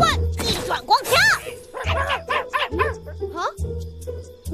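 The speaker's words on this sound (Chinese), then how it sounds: "不能让狗狗干扰到阿基米德" Cartoon dog barking and yipping in quick excited bursts, loud and close, mixed with cartoon voices and action sound effects.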